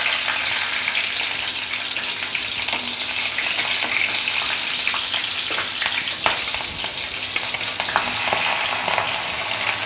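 Green chillies, onion and garlic frying in hot oil for a paneer curry, a continuous loud sizzle with occasional stirring scrapes and clinks across the whole stretch, no voices.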